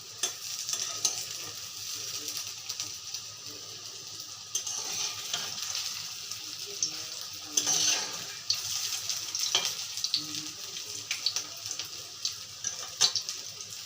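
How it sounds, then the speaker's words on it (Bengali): Vegetable fritters (bora) made with rice flour sizzling as they fry in oil in a wok, a soft continuous hiss with occasional stirring and clinks, fairly quiet, no talking. "এই যে সবগুলা বড়া কড়াইয়ে দিয়ে দিচ্ছি"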